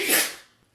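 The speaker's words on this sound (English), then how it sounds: "Sorry, I sneezed there." A single sharp human sneeze, loud and close, bursting out and fading into near silence within half a second.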